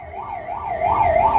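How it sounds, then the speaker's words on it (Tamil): Ambulance siren wailing at a roadside political campaign rally in Vikravandi, a steady rising-and-falling two-tone sweep that grows louder toward the end, with no talk over it. "ஆம்புலன்ஸ் வர்றதுக்காக இருக்கக்கூடிய முன்னால் இருக்கக்கூடிய வாகனங்கள் ஒதுங்கி வழி விடுறமாறு கேட்டுக்கொள்கிறோம்."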